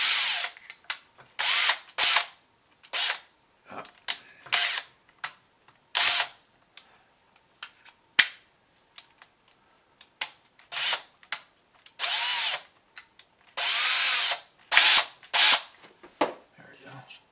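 A power drill drives a screw while a sculpture armature is being built, heard as repeated short, loud whirring bursts of varying length separated by silences, close up with no talking.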